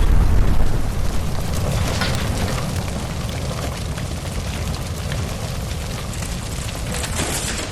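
A gas explosion by a stove in the LA Noire video game: a heavy boom at the start rolling into a long, loud roaring rumble and crackling debris that fades slowly.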